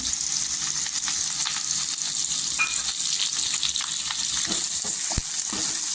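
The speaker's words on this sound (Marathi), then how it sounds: "तेलावर परतून घ्यायचं इथे" Vertically sliced onions sauté in hot oil with cumin and bay leaf, a steady close sizzle and crackle running the whole time, broken by a few soft clicks of a stirring spoon.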